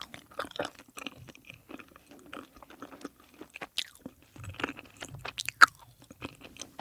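Very close chewing of a soda-flavored marshmallow, with irregular soft squishy bites and mouth sounds in a quiet room and no talking.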